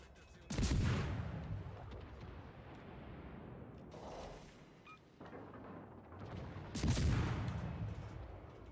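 Warship gunfire in World of Warships: Legends aimed at the ship Benham: three heavy booming salvos, each a sharp loud blast decaying into a rumbling tail, spaced several seconds apart.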